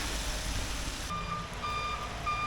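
A brand-new low-bed truck reverses in the rain, sounding its backup alarm. Steady, evenly spaced electronic beeps start partway through and repeat over a wash of rain and engine noise.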